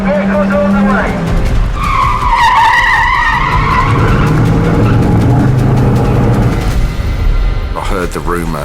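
Cars skid with long tire squeals and revving engines during a movie car chase filmed on the Las Vegas Strip, loud and close, with people talking over them.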